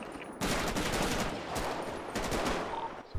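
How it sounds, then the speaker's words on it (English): Gunfire in GTA 5 role-play, Russians shooting near a highway: a dense, rapid crackle of shots in sustained bursts with brief gaps, fairly faint and continuous, with no voices. "The Russians are shooting as well."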